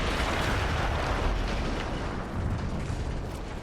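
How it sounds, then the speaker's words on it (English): An explosion in a war video game comes as a loud, sustained roaring blast of broadband rumble and debris noise that tails off slightly over a few seconds, with no speech. "That explosion was one of the sweetest sights of the war for me."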